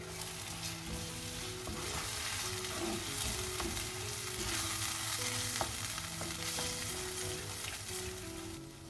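Brinjal kara kuzhambu frying in oil while being stirred in the pan: a steady, close sizzle with soft scraping stirs, constant and fairly quiet, with no voices.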